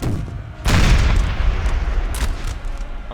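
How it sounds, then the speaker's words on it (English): Cannons fire canister in Napoleon Total War, a loud booming blast followed by a rumbling, noisy sustain and a second fainter report, with no talk over it. "Cannons will fire canister upon the..."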